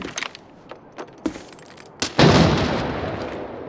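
Several sharp, muffled game gunshots crack at intervals, then a loud grenade blast bursts and rolls into a long, decaying rumble in a foggy shooter map.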